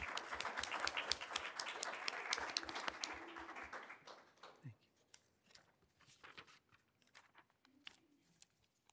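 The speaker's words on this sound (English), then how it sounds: "So let's give her a round of applause." Applause at a governing board meeting, a room of people clapping for several seconds before it thins to scattered claps, faint shuffling and footsteps.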